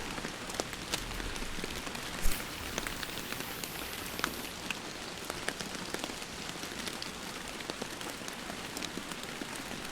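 Steady rainfall on a lake in the fishing video game Fishing Planet spreads as a continuous patter of drops, even and close, with scattered louder splashes and taps.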